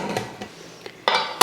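A metal lid set onto a pressure cooker pot of rice with salt added, a few light clinks followed by a sharp metallic clatter at the end, close and alone.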